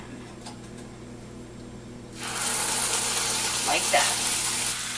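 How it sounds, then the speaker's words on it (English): Chicken thighs hitting a hot pan burst into a loud, broad hiss of sizzling about two seconds in, after a quieter stretch with kitchen hum, and the frying keeps up steadily while a voice speaks briefly. "Time to start adding my thighs, and they should sizzle nicely when they hit the pan."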